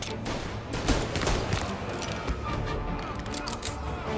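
A machine gun fires in the video game Mafia as scattered, fairly distant bursts under background game sound and a speaking voice.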